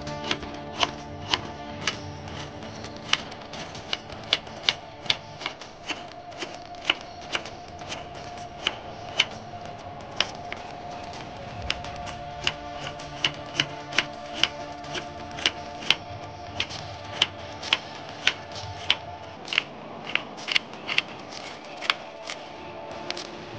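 Two onions are chopped with a knife on a board for a Bengali mutton kosha, a quiet, steady run of light, crisp taps with brief pauses.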